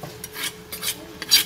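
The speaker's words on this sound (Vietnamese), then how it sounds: "Bây giờ chúng ta sẽ trộn rau thơm này, rau thơm này, tỏi ớt băm nhỏ này" Kohlrabi salad being tossed with chopped herbs, minced garlic and chili, several short scraping and rustling strokes of mixing in a bowl.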